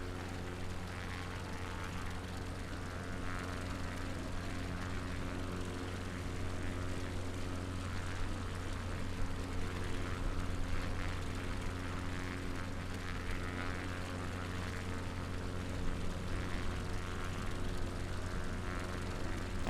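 Steady propeller aircraft engine drone heard from inside the cabin during a flight over Sandown on the Isle of Wight, a continuous loud hum with a constant low tone throughout, no talking.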